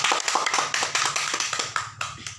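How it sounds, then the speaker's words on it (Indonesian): A quick burst of rhythmic clapping by children in a classroom, about a dozen sharp claps in a steady beat, close by. "Tepuk tangan untuk kalian semua supaya kalian bisa semangat."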